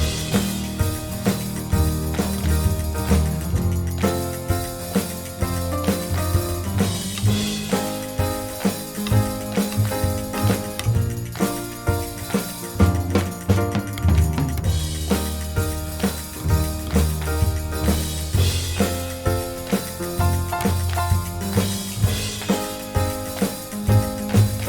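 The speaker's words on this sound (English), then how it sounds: "acoustic guitar using my Martin D28" A Martin D28 acoustic guitar strums the chorus of a song inside a full, dense band mix with a steady rhythmic pulse. It stays loud throughout, with no talking.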